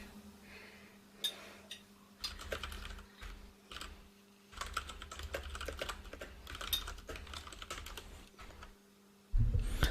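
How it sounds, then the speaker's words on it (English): Fast, forceful typing on a computer keyboard clatters in bursts of rapid key strikes with brief pauses, close and clear, ending in a loud thump. "I'm typing angrily"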